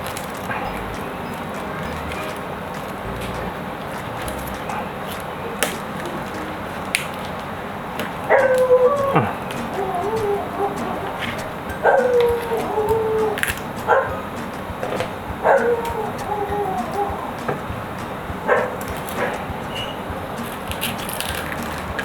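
A dog barks and yelps in short bursts in the middle distance against a noisy outdoor background, with some howl-like tones, while cooking of air-fryer grilled chicken goes on nearby.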